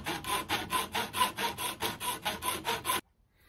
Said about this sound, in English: first I'm going to cut these bits off just with a wee saw.